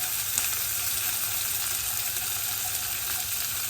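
Freshly grated ginger sizzles in a pan while a cauliflower and rohu fish dish is being prepared, a continuous, even, fairly faint hiss without stirring or voices.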